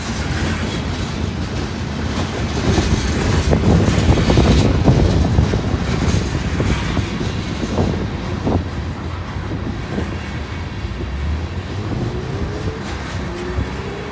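A long, heavy freight train climbs a grade with sand on the rails and a manned pusher locomotive, rolling past in a loud wash of wheel clatter and rumble with wind buffeting the microphone, later fading to a quieter steady roar.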